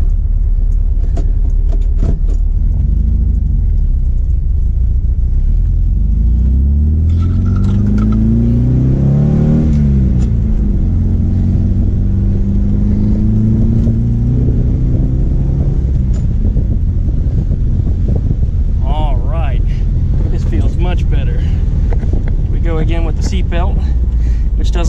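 A Volkswagen Type 3 engine with a custom transmission mount revs on the street, heard from inside the car. The engine drone rises and falls in pitch through the middle of the run, steady and fairly loud, with some cabin rattles and occasional talk.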